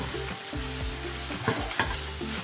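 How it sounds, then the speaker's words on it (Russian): Mushrooms fry in a skillet with already browned onions, giving a steady close sizzle broken by a few scraping stirs, with faint music underneath. "Лук обжарился, и я теперь добавляю в сковородку грибы."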